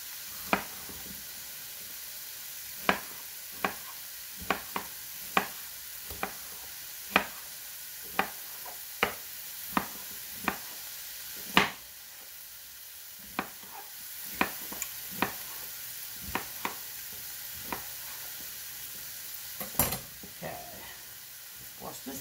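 Stir-fry vegetables cook in a pan over reduced heat, giving a soft, steady sizzle broken by regular clicks of a utensil stirring against the pan, fairly quiet and close.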